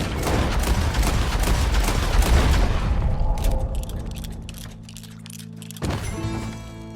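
Heavy gunshots in the Red Dead Redemption 2 video game, loud repeated booming thumps packed into the first few seconds, then fading to scattered shots and a lingering rumble.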